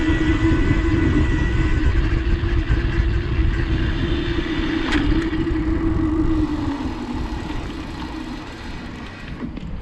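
Spark RX e-bike ridden at the highest assist level, with a steady motor whir blended into broad rolling and wind rumble, constant and loud before easing slightly toward the end.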